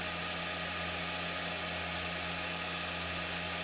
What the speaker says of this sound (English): here is a close-up of the rose engine cutting